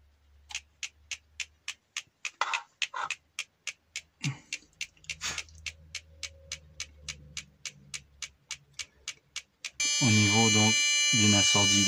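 A gas detector switched on gives a steady run of short, evenly spaced beeps, then breaks into a loud, continuous, harmonic alarm tone; faint talk sits low in the background.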